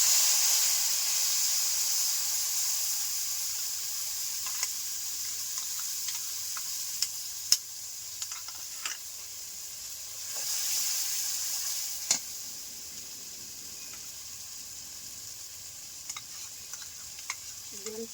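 A paste of cashew, rice and clove sizzles in ghee in a wok, a bright hiss strongest at first and easing off, dotted with frequent stirring clicks and taps.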